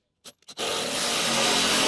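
A power drill with a larger bit spins up after two brief taps and bores steadily into material for a tiny house build, a loud continuous whirring grind close by.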